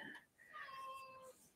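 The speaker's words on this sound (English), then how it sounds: "that's my cat. If you hear a meow," A house cat meows indoors, one drawn-out, rising-and-falling call lasting about a second, fairly close and clear against a quiet room with faint background voice.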